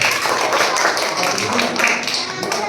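Schoolchildren in a primary-school maths class clap together for a classmate, a dense, steady patter of many hands filling the whole moment at close range.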